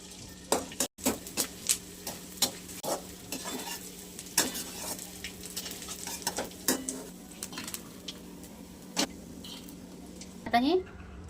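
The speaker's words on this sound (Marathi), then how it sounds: "आपण डिंक तळून घेऊयात." Edible gum (dink) fries in ghee in a pan with a continuous sizzle, broken by repeated scraping stirs and clinks of a metal spoon, while someone talks over it.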